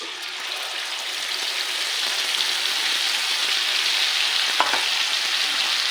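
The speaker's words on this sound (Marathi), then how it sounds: "लसण आपला परतून झाला त्यामध्ये ही पेस्ट टाकून घ्यायची" Garlic paste with curry leaves fries for fenugreek bhaji, a dense even sizzle growing slightly louder, with one brief knock of a utensil near the end.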